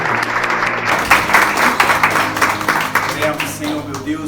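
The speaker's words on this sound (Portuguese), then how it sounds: "dar uma salva de palmas para o Espírito Santo, amém?" Church congregation applauding, a full room of clapping hands mixed with crowd murmur, steady and close throughout with low tones held underneath.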